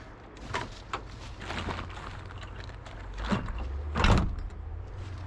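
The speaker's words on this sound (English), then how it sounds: "Let me shut this door." A door, likely a vehicle's, is shut with a couple of scraping slides and a firm thud near the end, close by amid faint mechanical background noise.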